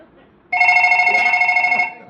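A telephone rings in a Kannada comedy stage play: a steady, bright electronic ring starts abruptly after a brief quiet moment and runs for well over a second before cutting off.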